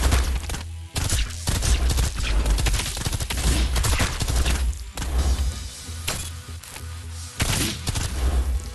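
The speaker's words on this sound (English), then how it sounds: "Okay, Degenbrecher attacking still sounds like a fucking gunshot." Rapid gunshot-like attack sounds from Arknights mobile game fire in dense volleys over a droning game soundtrack, loud and punchy, with sharp booms scattered throughout.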